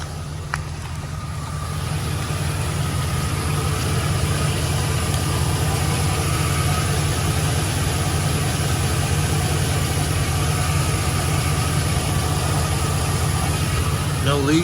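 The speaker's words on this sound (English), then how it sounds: "I'm going to let the van run while I'm adding fluid" A Chevy Express van engine idling steadily with a low, even rumble that holds for the whole stretch, close and constant, a faint clank near the start.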